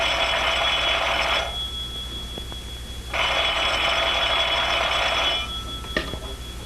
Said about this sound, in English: When you hear the tone of the gong, it will be exactly 12 o'clock and 6 split seconds.